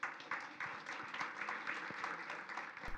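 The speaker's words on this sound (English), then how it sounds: "Round of applause to yourself," Audience at a community conversation on transportation for Metro Milwaukee applauds, a sustained crowd of clapping with individual claps standing out, steady and moderately loud throughout.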